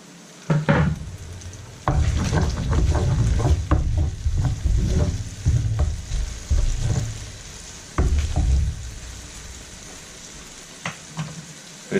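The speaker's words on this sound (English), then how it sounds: "that garlic's just been sauteing away in that butter" Roughly chopped garlic sautés in sizzling butter and chicken pan juices, a close, busy crackle that comes in uneven bursts as the pan is stirred, fading to near quiet by the end.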